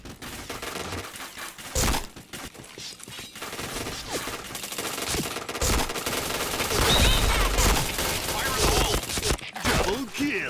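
Rapid gunfire from a mobile shooter video game, bursts of shots and crackling impacts stacked with game effects, loud and busy throughout with a voice speaking over parts of it.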